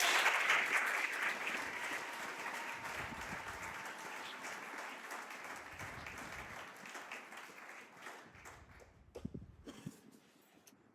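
A church congregation applauds during a worship service, a dense, loud wash of clapping that gradually thins and fades over several seconds until only a few scattered claps remain.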